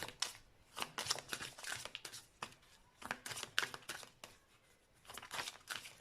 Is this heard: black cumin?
no